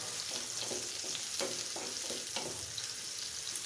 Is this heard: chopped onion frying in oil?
yes